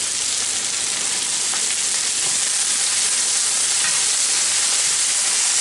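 Cube steak with onions frying in a pan gives off a steady, loud, dense sizzle that holds without a break throughout.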